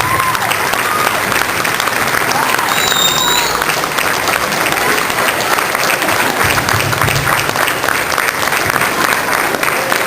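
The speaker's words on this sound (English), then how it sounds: "How about a round of applause for them?" At a high school Air Force JROTC ball, a large audience applauds loudly and continuously, a dense, even wash of clapping with faint voices mixed in.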